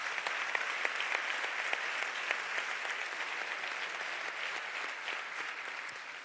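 Steady, full applause from a large audience at a sports awards ceremony honoring an Olympic silver medalist, continuous dense clapping at moderate loudness that eases slightly toward the end, no voices on top.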